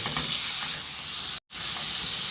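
Shrimp sizzling loudly in a frying pan while being stirred, a dense, steady hiss with scraping stir sounds, broken by a brief cut to silence midway before the frying resumes.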